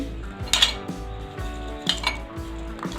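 Apple pieces going into a bowl of dalgona coffee fruit cream, heard as a few light clinks and taps of a spoon against the bowl with soft mixing between them, close and clear.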